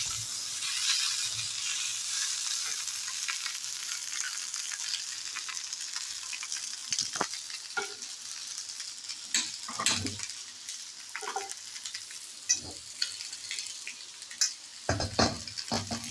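Boiled potatoes fry in oil in a kadai with a continuous soft sizzle, punctuated by scattered clinks and scrapes of stirring that grow more frequent toward the end.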